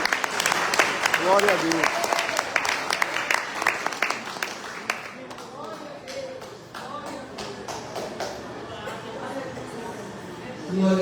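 A church congregation claps together in a strong burst of applause that gradually thins into scattered claps, while a voice speaks and people murmur underneath.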